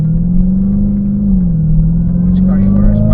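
A Dodge Hellcat's engine drones low and steady from inside the car while driving, the pitch dipping and rising slightly, with someone talking over it.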